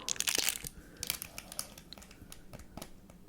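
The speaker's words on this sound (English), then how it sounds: "It is the best crinkling sound." A small piece of paper is crinkled close up in a quiet room, giving bursts of sharp, rustling crackles in irregular clusters that fade to lighter scattered crinkles.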